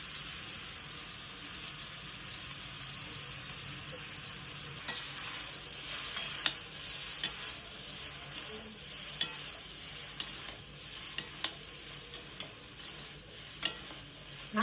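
Rice stir-fried in a hot pan sizzles steadily and loudly throughout, with sharp spatula scrapes and clinks becoming frequent in the second half.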